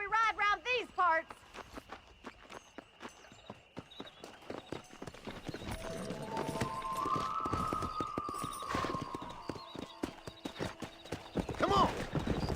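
Horse hooves clip-clop steadily on a ride in Red Dead Redemption, a brisk rhythmic gait that carries on throughout, with a whinny near the start and people talking over the riding.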